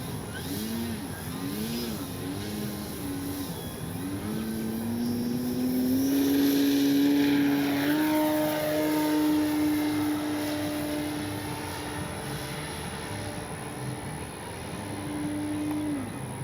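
A Hangar 9 J-3 Cub RC plane takes off from a grass strip, its small engine revving up to a rising whine that peaks loud as it lifts away, then holds a steady drone before fading and returning.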